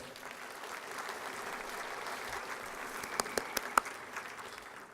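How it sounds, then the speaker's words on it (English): A civic State of the City gathering gives a round of applause, faint and distant massed clapping sustained throughout, with a few sharper individual claps standing out near the end. "let's give them a round of applause for that."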